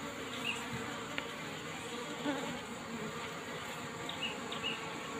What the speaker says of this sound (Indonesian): Sang ratu Apis Cerana atau Tawon Unduan atau Tawon Duan